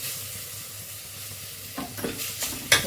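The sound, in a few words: mint leaves frying in a pan for chicken biryani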